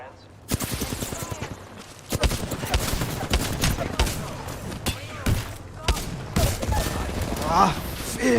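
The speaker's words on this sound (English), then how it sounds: "I am taking fire, friends." Gunfire in the video game Apex Legends, rapid bursts of shots and sustained automatic fire coming close and loud across the whole stretch, with thumps and a voice talking over it.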